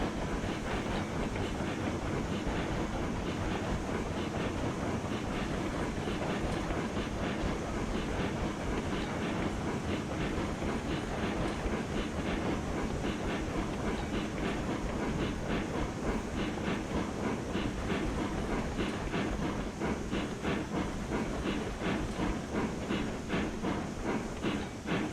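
Steam locomotive and cars rolling in the train game Railroads Online, a steady dense rumble with rapid rhythmic clicking over the rails and a faint hiss, loud and continuous throughout with no talk.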